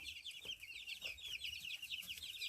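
Young chicks crowding around a feeder after being fed, clucking and peeping in a busy, overlapping chorus of high chirps, with soft low clucks underneath; fairly faint and continuous.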